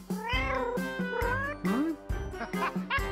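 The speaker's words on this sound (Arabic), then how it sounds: "قطة متدلعة جدا" A pampered cat at an animal hospital meows again and again in loud, drawn-out, rising and falling cries with short pauses between them, close by and with no talking.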